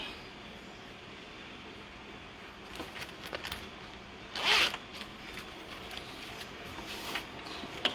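A zipper on a sewing project, concealed in the back of a garment, gives a short quiet rasp in a calm room, followed by faint rustling of fabric handling.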